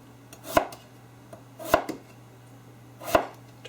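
A knife chops garlic and shallots on a cutting board in three distinct, evenly spaced bursts of quick blade strikes, each a cluster of sharp taps, with a faint steady hum underneath and no talking.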